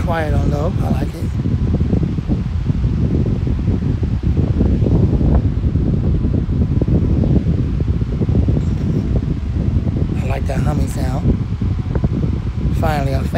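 A Lasko 20-inch high velocity fan runs with a steady, close, broadband whoosh of rushing air throughout, while a voice speaks briefly near the start and again near the end.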